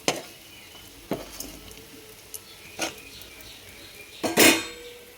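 Small pieces of fish 65 fry in hot oil with a low continuous sizzle, broken by occasional clinks and scrapes of a utensil stirring and turning them in the pan.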